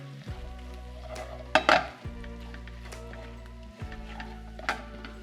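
Mild Kashmiri chilli powder and spices frying in a pan for lamb bhuna, a soft continuous sizzle close by, broken by a few sharp stirring scrapes and clinks of a utensil against the pan, with no voices.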